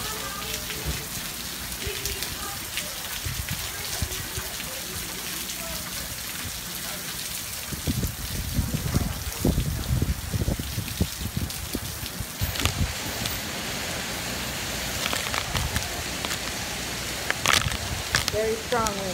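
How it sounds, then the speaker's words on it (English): Heavy hurricane rain pours steadily onto surfaces nearby during Hurricane Maria in Puerto Rico, a constant hiss with drips and splatters, growing more intense partway through. "Strong rain, much rain."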